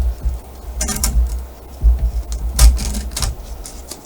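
A blade cuts through skateboard grip tape as the tape is pulled away from the board, giving close, scratchy rasping strokes in short bursts with brief pauses between them.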